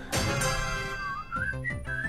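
A person whistles nearby: a short, clear tone that slides upward and then wavers in a few brief notes, loud and alone.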